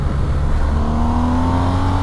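A BMW R 1300 GS motorcycle engine drones loudly and steadily, its pitch climbing gradually as it pulls up through the revs.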